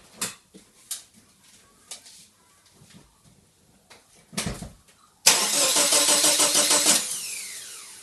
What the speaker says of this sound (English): now it's no problem to observe what's going on while the engine's cranking over